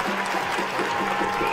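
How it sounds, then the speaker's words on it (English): A crowd at a men's EuroHockey Championships II field hockey semi-final between Scotland and Russia applauds steadily after a goal, with dense, even clapping across the whole short stretch. "Callie Fraser taking a lot of applause"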